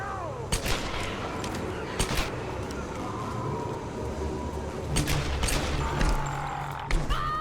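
Gunfire in the Tomb Raider video game: sharp shots crack out in scattered bursts and clusters over a rumbling, noisy backdrop, loud and close.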